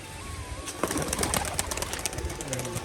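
Pigeons in a rooftop loft, Rajshahi-type birds, with soft cooing calls and flapping wings, fairly close and busy with scattered sharp flutters, alongside a faint thin whistle-like tone.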